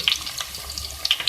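Ginger garlic paste fries with golden-brown onions in a pan, giving a soft crackling sizzle with scattered sharp pops and light stirring scrapes.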